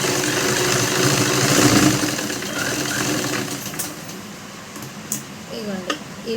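A sewing machine stitches a blouse lining with a steady mechanical whir that is loudest early on, then eases off and gives way to a few light clicks.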